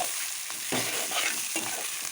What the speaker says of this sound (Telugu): చూసారు కదా మటన్ మనకి అలాగే ఫ్రై అయ్యిందో దాన్ని ఆయిల్ కూడా వచ్చిందన్నమాట.